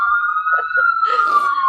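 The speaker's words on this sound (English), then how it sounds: "wow, a lot of sirens." A wailing siren passing outside holds a steady high tone throughout, joined by a second rising siren and some background noise near the end.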